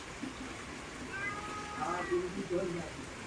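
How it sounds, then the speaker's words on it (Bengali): A cat meows a few times, rising and falling cries close by, over a quiet background murmur. "ওখানে একটা বিড়াল থাকে"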